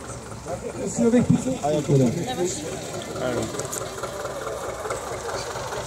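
A tractor engine runs steadily during ploughing at a village ploughing event, its low knocking chug continuing beneath loud nearby talk from several people.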